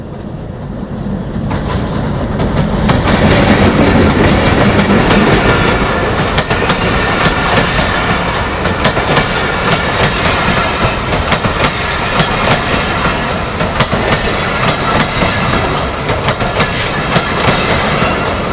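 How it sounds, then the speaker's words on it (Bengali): A train runs along tracks through rural Bengal countryside between two water channels, with a loud, steady rumble and rhythmic clickety-clack of wheels that holds for the whole stretch, and no voices. "মাঝখান দিয়ে ট্রেনের রাস্তা, একটা ট্রেন আসতেছে।"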